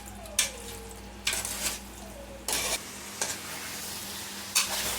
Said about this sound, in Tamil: இதே மாதிரி நல்லா கொஞ்சம் நல்லா ஃப்ரை பண்ணிக்கலாம்